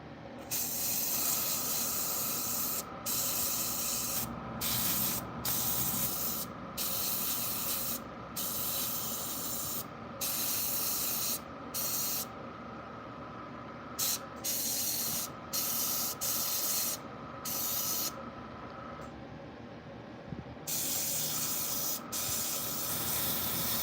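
An airbrush sprays dye onto a rug in repeated hissing bursts of a few seconds each, separated by short pauses, loud and close with a steady tone running under the spray.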